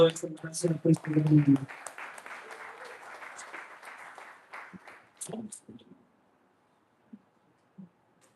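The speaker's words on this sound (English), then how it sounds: "We have another round of applause for him." A conference audience applauds after a talk, a quiet wash of many hands that starts under a speaking voice and then fades, leaving near silence with a few stray sounds.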